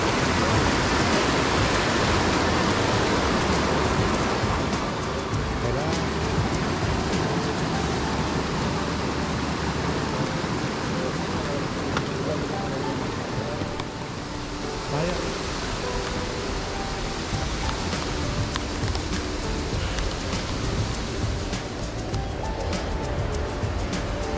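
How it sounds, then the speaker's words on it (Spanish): A waterfall pours beside an old mill on a forest trail near Luintra in the Ribeira Sacra, a dense continuous rushing roar that fills the whole clip without pause. "Ahí con el, con la cascada."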